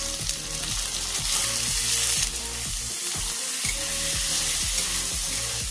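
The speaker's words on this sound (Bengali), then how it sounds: "এবার দিয়ে দিচ্ছি কেটে রাখা টমেটো।" Chopped tomatoes hiss and sizzle in hot oil in a pan, the steady frying broken by rhythmic stirring scrapes from a spatula, close and prominent with no talk.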